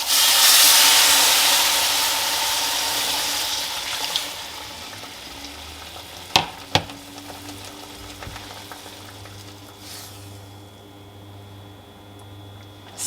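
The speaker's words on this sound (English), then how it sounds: "be careful while you're pouring the water in, it can get a little agitated in the pot" Water poured into a hot pot of sheera hisses and sizzles loudly at first, then settles into a softer bubbling with a couple of sharp clinks partway through.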